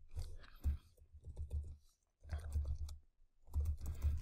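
Keys clatter on a computer keyboard in quick irregular bursts of typing separated by short silences, close and fairly quiet.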